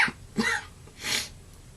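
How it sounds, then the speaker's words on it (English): A single sneeze with a sharp sniff and breathy burst, close to the microphone, followed by a short exhale. "I'm going to sneeze."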